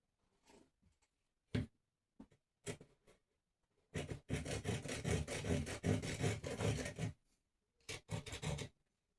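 A small hand saw cutting through wood, with a few short scattered strokes followed by a sustained run of rapid back-and-forth rasping strokes, then a brief final burst, close and moderately loud.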